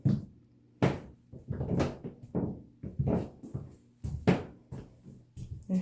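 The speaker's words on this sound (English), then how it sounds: "There's very much creaking in this floor." A wooden bedroom floor in a house creaks and thumps under footsteps, giving irregular, fairly quiet groans and knocks at close range.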